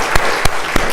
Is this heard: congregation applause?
yes